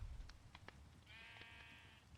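A Minecraft sheep in version 1.21.4 survival gives a single faint, wavering bleat lasting about a second, after a few soft clicks.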